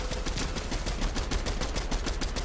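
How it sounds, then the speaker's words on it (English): Rapid bursts of video game gunfire crackle in a dense, continuous rattle, close and loud for a couple of seconds, like an automatic weapon firing steadily in an online shooter match. "Oh, he's shooting at you, Sergio."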